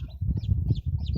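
A chick bred from crossing a colorful chicken with a native village chicken gives a quick run of high, thin peeps, several short chirps in a row, close and clear over low handling noise.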